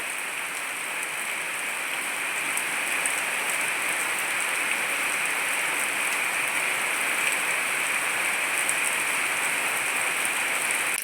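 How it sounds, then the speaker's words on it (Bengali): Steady rain pours onto a rural pond, a dense, even hiss of countless drops hitting the water that holds constant for the whole stretch with no voices. "বৃষ্টি একেবারে সব থেকে ভালো লাগছে পুকুরের মধ্যে বৃষ্টি পড়ছে"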